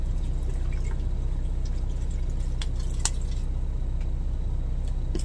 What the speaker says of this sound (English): I'm gonna go ahead and add the water